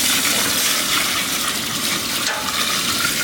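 Water pours into a pot of duck curry as a continuous, loud rushing gush that holds steady throughout with no talking.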